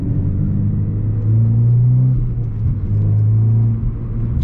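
Renault Clio 3 RS with a Milltek half-line exhaust, a loud, deep droning rumble from inside the car that swells in two sustained pulls, alone with no talk.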